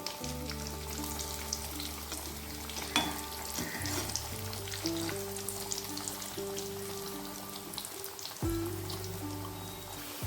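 Chicken nuggets deep frying in hot oil on medium heat and being flipped, a steady bubbling sizzle with crackly spatter, a sharp clink around midway and another louder burst near the end as pieces are turned.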